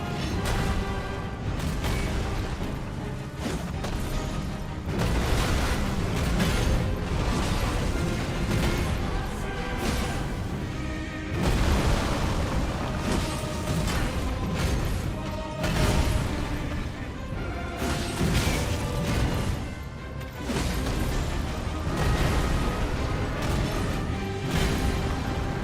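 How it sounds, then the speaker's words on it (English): Combat in the Elden Ring video game, with a Giga Explosion attack among dense, continuous crashes and booms that stay loud throughout, several heavier impact bursts landing in succession. "I don't understand how that one ends up being a Giga Explosion"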